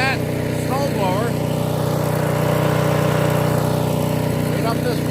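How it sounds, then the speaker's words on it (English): A PowerSmart snowblower clearing a path and laneway runs with a steady, loud engine drone and droning harmonic hum throughout, while someone talks over it. "I ran that snowblower"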